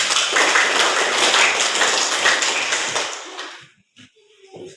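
A group claps hands together for about three seconds, a dense, close patter of many overlapping claps at even loudness that stops abruptly, leaving a few scattered taps and near quiet.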